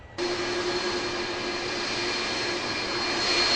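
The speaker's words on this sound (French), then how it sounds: "Air France qui atterrit pour la première fois sur la piste de cette nouvelle aérogare" An Air France airliner landing at Ndjili airport, a loud, steady jet engine roar with a sustained whine, rising slightly toward the end, heard alone.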